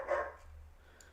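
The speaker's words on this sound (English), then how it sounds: "I don't even know what she's barking at" One dog gives a single quick, faint bark at a distance, then quiet room tone follows.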